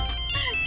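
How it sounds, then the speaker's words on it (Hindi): A phone ringtone plays for an incoming call, a short bright electronic melody ringing loud and clear, heard alone in an indoor domestic scene. "अरे उठाओ ना फोन, नहीं तो उनको बुरा लगेगा।"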